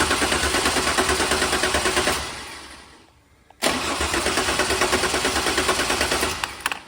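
A 2000 Chevrolet Camaro with wiring issues and a broken spark plug cranks without starting, a loud rapid chugging starter rhythm for about two seconds, a short pause, then another long cranking burst, close up.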